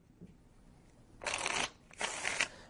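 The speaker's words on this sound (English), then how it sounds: "And I shuffle them into each other" A deck of playing cards, red and black halves, shuffled together in two quick riffling bursts, each a dense crisp flutter of card edges at close range, with no talk over them.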